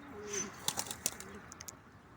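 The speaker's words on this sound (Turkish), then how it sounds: "Şöyle iki tane iki kuşumuz uçuyor." Coop pigeons flap their wings in quick bursts of soft, close clattering beats, following a short low cooing call at the start.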